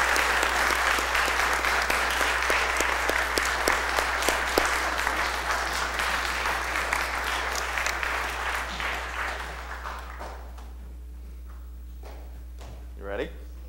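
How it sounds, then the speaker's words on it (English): Audience at an Eagle Scout Court of Honor gives a round of applause for Zach, dense steady clapping that fills the room for about ten seconds, then fades out, leaving quiet room sound and a brief voice near the end. "We have a round of applause for Zach."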